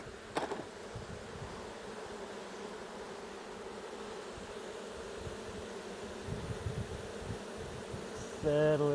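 Honey bees buzz around a comb honey super, a soft, steady hum of many insects close by, with a brief knock at the start and a short voice near the end.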